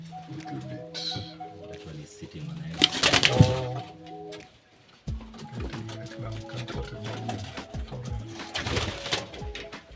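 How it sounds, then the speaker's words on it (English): Several pigeons, including a tumbler pigeon, coo nearby in low, overlapping throaty rolls, with occasional bursts of rustling and fluttering among them. "That is a tumbler pigeon."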